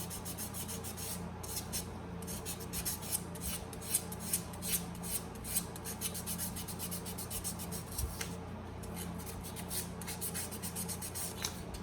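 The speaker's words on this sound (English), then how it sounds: "I begin to rub the surface off to reveal the high points of the silver and the oxidation" Sandpaper rubs over an oxidized, grooved handmade silver surface to bring up the high points. Close, steady rasping strokes repeat in a fast back-and-forth rhythm, with no voices.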